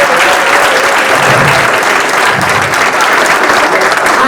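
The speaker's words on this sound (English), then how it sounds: "A round of applause for TEPE's father, please." Loud, dense applause from guests at a traditional wedding celebration in Boston, sustained without break through the whole stretch, with crowd murmur mixed in.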